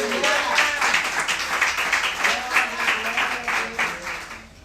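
Church congregation clapping in praise to the Lord, a rhythmic, pulsing beat of many hands with voices and singing woven through, fading toward the end.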